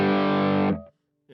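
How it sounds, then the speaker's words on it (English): An electric guitar chord rings out through a modeled overdrive pedal on a Headrush or Line 6 Helix unit, thick and gritty, sustaining for under a second before cutting off, then a short distorted note starts. "now let me turn up the distortion a little bit, because you can get a lot of gain out of this pedal."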